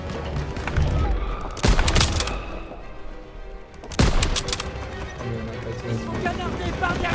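Bursts of rifle and machine-gun fire in the World War II shooter game Call of Duty WWII, with two sharp volleys standing out over a busy, continuous battle mix, while people talk throughout.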